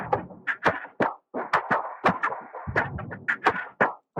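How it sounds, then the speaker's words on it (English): A quick percussion loop in FL Studio of crisp taps, knocks and clicks in a bouncy, syncopated rhythm, dry and close. "this perk loop that sounds like this"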